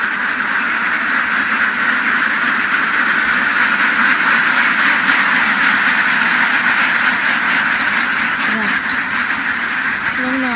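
Ducks quack in a busy chorus under a constant hissing drone, with faint voices mixed in.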